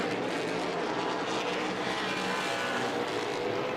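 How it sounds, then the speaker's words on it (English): A struggling race car engine roars past the commentary booth at a Pinty's Series stock car race at Delaware Speedway, a loud, continuous rough drone filling the whole moment with no talk over it. "you can hear it. Totally different sound as he goes by the booth here. That engine is not happy to be here right now."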